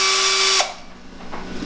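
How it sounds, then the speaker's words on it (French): Power drill whirring steadily with a high, bright whine, then cutting off abruptly partway through, leaving quieter room sounds and a couple of soft knocks. "on va rafraîchir la chair avec cette perceuse"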